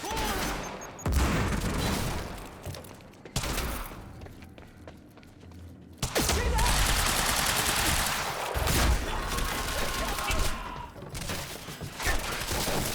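Gunfire in the video game Quantum Break: dense bursts of automatic fire and shots in a firefight, loud and near, with brief lulls before the shooting surges again and keeps going.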